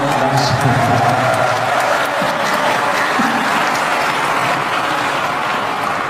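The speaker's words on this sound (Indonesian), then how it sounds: "Adapun tepuk tangan yang kurang semangat saya maklum karena lapar semuanya" An audience at an Islamic lecture gathering applauds steadily, a broad wash of continuous clapping from many hands with a little cheering, loud and sustained throughout.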